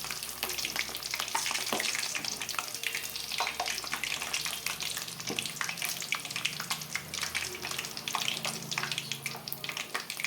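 Green gram fritters (sukiyan) frying in hot oil with coconut filling, a dense, steady crackling sizzle that runs throughout at close range with no talking.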